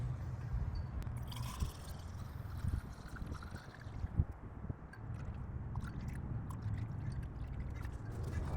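Coolant is poured into the cooling system of a BMW E46 330i/325i, a steady low gurgling and glugging with occasional squishy bubbling and faint scrapes, close and continuous, with no talking.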